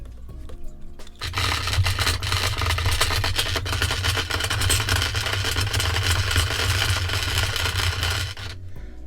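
A spinning reel winds braided fishing line onto its spool under tension, a steady close whirring and scraping drone that starts after a short quiet moment and holds evenly before easing off at the end.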